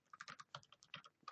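Quick, uneven keystrokes on a computer keyboard while entering commands on a Linux system, soft and close with a rapid clicking rhythm and no talk.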